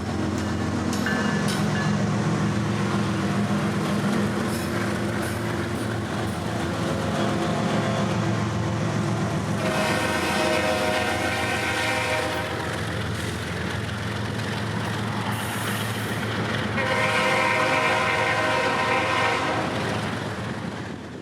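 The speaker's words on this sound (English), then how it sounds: "this 202 train rips north with intermodal for Bowden" A Florida East Coast Railway intermodal freight train, number 202, rushes north past a pre-dawn trackside, its roar loud and continuous, with horn blasts and rolling clatter of cars.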